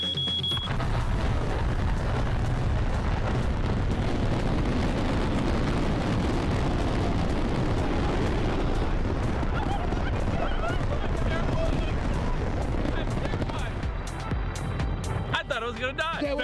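Expensive $1,000 fireworks, a costly large display, fire in a dense, sustained roar of blasts and crackling that fills the whole stretch at high loudness, with people shouting and talking over the barrage.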